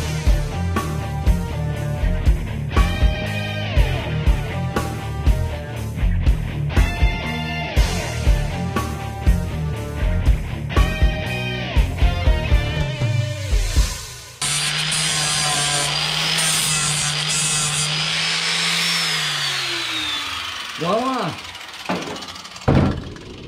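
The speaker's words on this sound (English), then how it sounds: "do some flap disc grinding without hacking our fingers off" A flap disc grinds metal on the rocker panel of a 1957-1958 Plymouth, starting with a series of short rhythmic scraping passes and then giving way to a steady high whine that winds down. Someone talks over the grinding.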